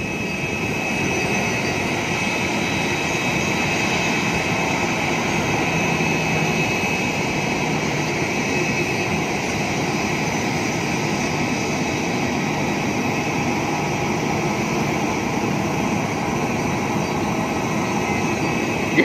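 A Citilink jet's engines roar loudly and steadily at an airport gate in Surabaya, a continuous broadband whine with a sustained high tone that holds unchanged throughout, with no talking.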